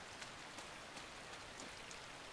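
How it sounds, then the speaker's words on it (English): Steady rain in the video game Inside, a soft continuous hiss of falling drops with faint scattered pattering, heard alone without talk. "Look in this rain."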